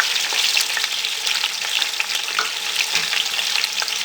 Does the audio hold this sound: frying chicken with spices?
yes